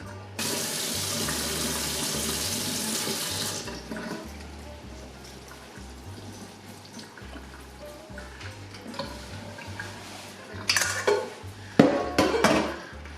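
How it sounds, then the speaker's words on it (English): Water running from a kitchen tap into a sink while washed lamb meat is drained, a steady hiss at first, then quieter trickling and clattering of the pot toward the end. "I've drained the water off well."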